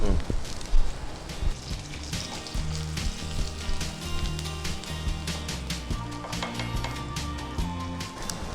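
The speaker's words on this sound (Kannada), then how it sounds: "ಒಗ್ಗರಣೆ ಸೊಪ್ಪು ಹಾಕ್ತೇನೆ." Herbs dropped into a sizzling tempering for tomato kurma: a loud, close, continuous crackling sizzle with bursts of spitting pops, while a low voice sounds faintly under it.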